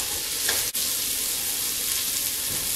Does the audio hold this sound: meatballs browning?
yes